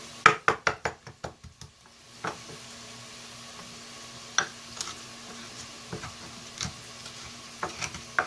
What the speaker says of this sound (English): We crush it in one of these, which makes the garlic taste a lot better in the food.